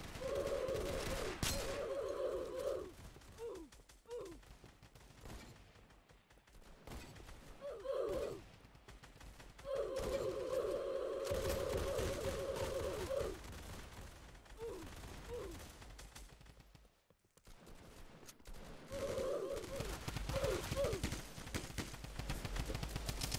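Rapid gunfire from a weapon in a Roblox combat game, quick rattling bursts with clicky mechanical reloads, coming in several separated volleys amid quieter gaps, moderately loud with no voices.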